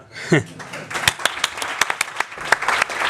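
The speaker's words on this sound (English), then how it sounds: "Now you can clapping to me." Journalists clap at a manager's last Manchester City press conference, scattered individual claps ringing out close by in an irregular rhythm, mixed with voices and laughter in the room.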